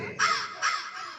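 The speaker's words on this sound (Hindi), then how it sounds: "इतने में कौआ आया, कांव कांव करने लगा" A crow caws loudly and close by, two long harsh calls followed by a shorter third one, with nothing else around it.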